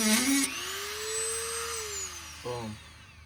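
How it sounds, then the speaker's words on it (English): A Dremel rotary tool cuts off rusty screw bolts on a 1973 Toyota Land Cruiser FJ40, producing a close, high whine whose pitch rises and falls, with short grinding bursts at the start and end. "So what we're doing now is just getting the Dremel out, and we're gonna cut the back off"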